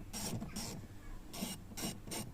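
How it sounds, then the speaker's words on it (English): Screws being driven back into the door panel of an Audi A3 8P after a front speaker replacement, a close, repeated rasping ratchet-like turning in short bursts with brief pauses between. "just putting all the screws back in"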